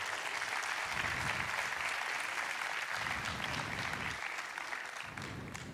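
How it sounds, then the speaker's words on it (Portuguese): Continuous applause from the crowd at a live music concert in Arganil, Portugal, as a singer is introduced, steady distant-sounding clapping throughout, fading slightly toward the end. "Um salve de palmas para ele."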